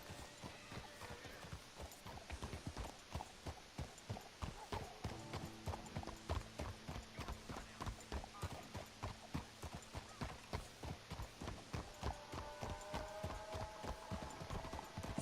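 Horse hooves gallop at a fast, even clip-clop rhythm throughout in Red Dead Redemption 2, close and continuous, with faint voices in the background.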